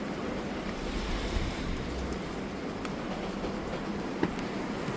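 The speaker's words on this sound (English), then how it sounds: "Sorry about the rain." Steady broadband hiss of rain falls throughout, dense and even, with faint wind-like rumble and a few light taps, no talking.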